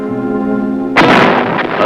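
Artillery fire supporting First Air Cavalry Division airmobile troops: a sustained tonal hum gives way midway to a single loud, close blast that rumbles on to the end.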